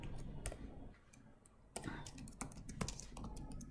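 Light typing on a computer keyboard, with scattered, irregular key clicks and taps coming in uneven bursts at close range, with brief pauses between them.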